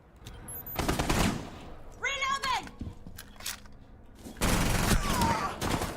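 Rapid automatic gunfire from a Rainbow Six Siege tournament match rattles in loud sustained bursts, broken by a pause and a short spoken exchange, then resumes with another dense volley.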